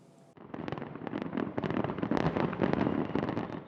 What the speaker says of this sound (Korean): 가을 밤하늘을 수놓는 폭죽 10만 발의 향연에 한강공원 일대는 100만 명 안팎의 관람객으로 넘쳐났습니다